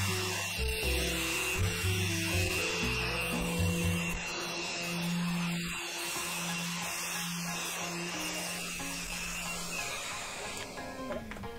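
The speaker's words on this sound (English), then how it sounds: "I sand the freshly routed roundovers with 180 grit before giving the whole board a final sanding with 240." Sanding freshly routed 3mm and 6mm roundovers on an oak end grain chopping board with 180 grit, a continuous close abrasive rubbing with a steady tone, alone without talk.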